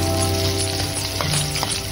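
Onions frying in a pan for a monggo dish and being stirred: a close, continuous sizzle with a few soft scrapes from the stirring, and no talk.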